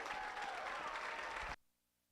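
Round of applause from the crowd at a 4-H market hog show at a county fair, a dense burst of clapping that cuts off abruptly after about a second and a half, leaving near silence.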